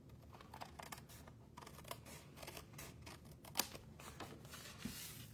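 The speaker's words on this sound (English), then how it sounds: "I'll just use my snips to snip off this piece that I cut too big" Metal snips cut paper while a pop-up card is trimmed, giving a few quiet, close snipping clicks with one sharper cut partway through.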